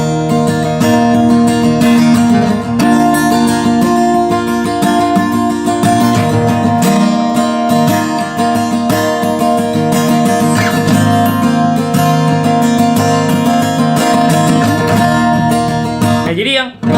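Acoustic guitar strummed in the pattern of a song, with full chords ringing across the strings, loud and steady throughout, no voices.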